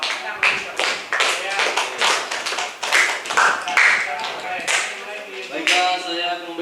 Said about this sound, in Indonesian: Ya, beri aplaus dulu kepada tim Pro